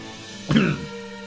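A single short cough, close and fairly loud, from a person who has been doing a strained character voice while playing Cinders; a brief harsh burst that quickly fades to quiet.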